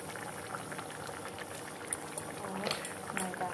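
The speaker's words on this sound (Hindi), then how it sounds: "ये जैसे बॉईल हो रहा है मैं इसमें थोड़ा सा नमक डाल दूँगी" Spinach for palak paneer boiling in a pot, a steady bubbling and hissing simmer at close range with a few louder pops and splashes near the end.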